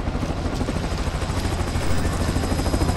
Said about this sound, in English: I can have the chopper bring you in